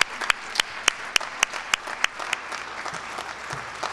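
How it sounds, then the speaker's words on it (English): A small audience at a management lecture gives a round of applause, a few sharp, evenly spaced claps standing out over softer scattered clapping that thins toward the end. "if we can please have a round of applause for Alyson Scott."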